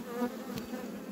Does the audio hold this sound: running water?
no